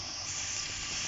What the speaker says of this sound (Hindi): प्याज जो हमारी है वो अब ब्राउन हो रही है। हम इसको अब ब्राउन करेंगे प्याज को।